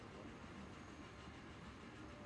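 A train runs along the track in the railway simulation game Transport Fever 2, a steady dense rumble and rattle that fills the whole stretch without pauses or speech.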